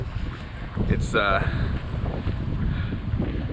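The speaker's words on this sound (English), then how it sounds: "It's cool and windy, just not like the last 3 days of insane wind." Wind blows steadily across the pits of the Glen Helen motocross track in California on a cool day, a constant broadband rush with gusty buffeting against the microphone and faint voices underneath.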